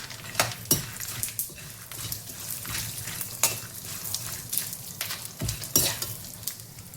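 Makhana and peanuts fry in oil for chivda, a continuous moderate sizzle broken by frequent sharp scrapes and clinks of a spatula against the pan at an uneven rhythm.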